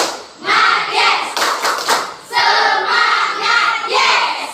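Students in a classroom clap out the 'tepuk semangat' rhythm, a run of crisp group hand claps in the middle, surrounded by energetic chanted voices.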